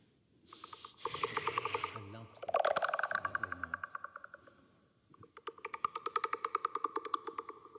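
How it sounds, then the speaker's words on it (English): Beluga whale call, pitch-processed into a Doctor Who sound effect: raspy, rubbing bursts and a warbling tone, then a rapid train of clicks toward the end, fairly quiet and without speech. "that's the sound of a beluga whale messed about with a bit"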